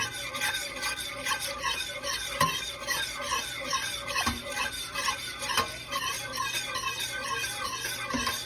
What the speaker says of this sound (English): And so you just want to constantly stir. Stir, stir, stir, stir, stir.